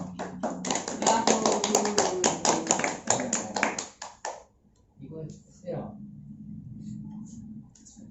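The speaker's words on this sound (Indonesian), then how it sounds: "Tepuk tangan dong." A class claps together in an Islamic history micro-teaching lesson, a dense burst of quick claps for about four seconds that then stops, followed by quieter sounds.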